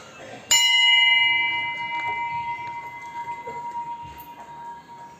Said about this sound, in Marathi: मंदिर घंटी वाजवलं पाहिजे